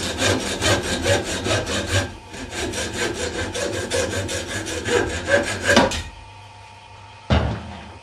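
A hacksaw cuts through a plastic water rocket nozzle in steady, rasping back-and-forth strokes for about six seconds, then stops. One short scraping stroke follows after a pause.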